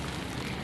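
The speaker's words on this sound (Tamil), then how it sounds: "24/7 மழை தான் பெய்யுமா இங்கே?" Rain falls steadily in the horror video game Kamla as a brief, dense, even hiss with no other sounds.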